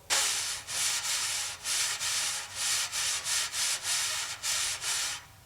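A wire drum brush swept straight back and forth across a drumhead, making a steady series of about a dozen short, breathy swishes in an even staccato rhythm, close and alone before stopping.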